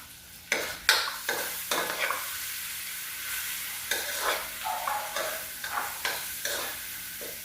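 Tomato frying in a pan with garlic and dried fish, a steady close sizzle broken by repeated scraping stirs of a utensil, with no talking.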